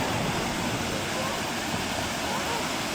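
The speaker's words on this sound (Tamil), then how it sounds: "தண்ணி வருது பாருங்கள்," Released dam water rushes loudly downstream ahead of a jetboat ride in New Zealand, a steady, dense roar like a waterfall that fills all three seconds without a break.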